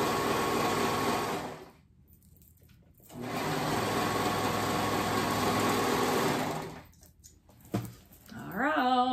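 A sewing machine stitches a top in two long steady whirring runs with a short pause between them, then a brief final burst. The sound is close and even, with no talk.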